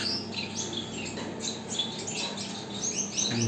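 Gouldian finches in an aviary give soft, high chirps and squeaks in scattered overlapping bursts, close by and fairly quiet over a low background hum.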